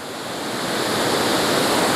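Waterfall at Balingen castle in fresh snow, a steady broadband rush of falling water that swells slightly and continues unbroken with no voices.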